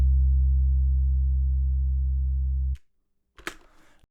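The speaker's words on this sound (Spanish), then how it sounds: "Bajo sintético." A steady synthetic sub-bass tone holds pure and loud for nearly three seconds, then cuts off abruptly, followed by a short, faint noisy burst.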